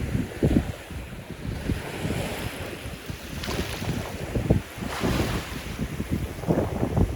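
Shallow seawater at a Sanibel beach laps and washes against a person wading at low tide, a continuous churning swish with gusty wind buffeting the microphone.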